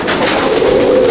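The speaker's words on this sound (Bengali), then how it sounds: "পায়রা খুবই ভালো কোয়ালিটির পায়রা" Racer pigeons, including Chennai and Coimbatore breeds, coo continuously inside their loft in Madhyamgram, a near, loud, overlapping throaty burble with no voices.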